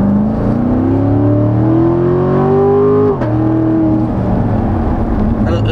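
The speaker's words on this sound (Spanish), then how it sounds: "Ahí al acelerar ya escuchas la diferencia, aunque vas despacito sientes el ronroneo del carro" A Corvette sports car engine with open exhaust hums steadily with rising pitch as it accelerates, a deep throaty drone that briefly dips before settling back into a low purr.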